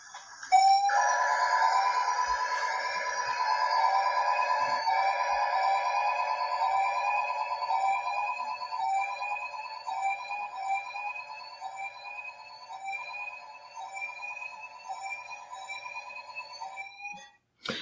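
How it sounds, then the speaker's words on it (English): An electronic alarm rings continuously with a rapid repeating warble, steady and prominent for the whole stretch, ending abruptly. "Suddenly, an alarm rang."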